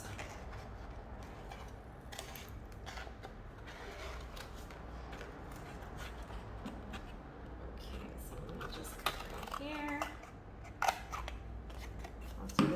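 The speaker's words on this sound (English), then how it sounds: "Okay, so I'm going to carefully cut around my fingertips." Scissors cut a hand shape out of paper for an autumn tree art project. Quiet, close snips and crisp paper rustles come in an irregular run, with a few sharper cuts near the end.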